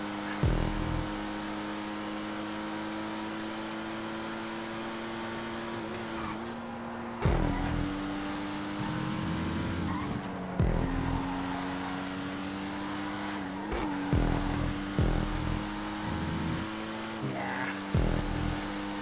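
A Pariah supercar races in GTA 5, its engine holding a steady high drone that shifts pitch through gear changes, with brief tire noise and no talk.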